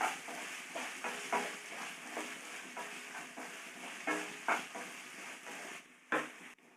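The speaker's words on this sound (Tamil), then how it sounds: "வெங்காயம் பச்சை மிளகாலாம் நல்லா வதங்கட்டங்க." Chopped onions and green chillies sauté quietly in a pan for eggless podimas, a soft sizzle broken by a series of spatula stirs and light scrapes.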